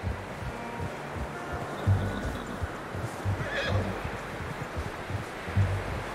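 A horse whinnies and snorts in the Western video game Red Dead Redemption 2, short calls heard a few times over soft rustling ambience, with low voices in the background.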